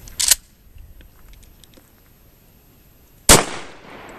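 Two sharp, loud shotgun blasts about three seconds apart, fired at a patterning target from roughly six feet, each a sudden broadband crack with a short decay and quiet in between.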